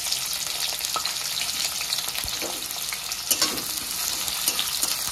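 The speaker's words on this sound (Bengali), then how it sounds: "পেঁয়াজটাকে একটু সামান্য নেড়ে ছেড়ে নেব।" Chopped onion sizzles steadily in hot oil alongside dried red chili and whole cumin, with occasional scraping strokes and soft clatter as it is stirred, close and continuous.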